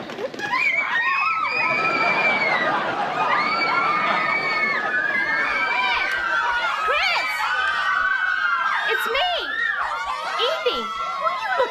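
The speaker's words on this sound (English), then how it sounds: "Look at that crowd." A sitcom crowd cheers and shouts excitedly, with high-pitched squeals, whoops and some laughter layered together at a loud, sustained level throughout.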